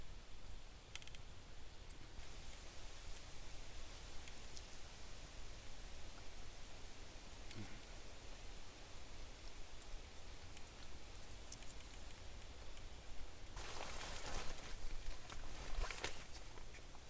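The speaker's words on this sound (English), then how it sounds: "Sounds like we're getting some rain out there" Rain falling steadily on a campsite lean-to, a dense, even hiss of drops that continues throughout and swells briefly near the end.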